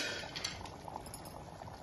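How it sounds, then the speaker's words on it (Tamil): Tomato kurma simmers in a pot with a steady, low bubbling hiss and faint utensil clinks, close and quiet, with no talking. "கொதி வரட்டும், பார்க்கலாம்."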